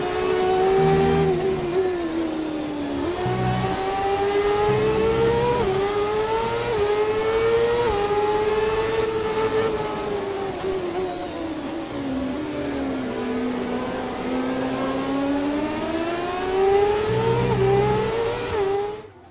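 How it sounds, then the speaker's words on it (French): A high-revving Ferrari Formula 1 car engine in the F1 2017 video game screams steadily throughout, its pitch climbing and dropping with each gear change and corner, loud and close, with no talking. "vous allez laisser également profiter du son du moteur de la Ferrari"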